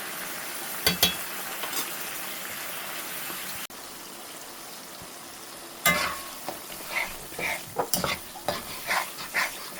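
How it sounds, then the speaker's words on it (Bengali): Spice paste with chili, coriander and turmeric frying in a pan, a steady sizzle broken by bursts of scraping and stirring, with sharper clatters toward the end. "মশলাটা সুন্দর করে কষিয়ে নিব।"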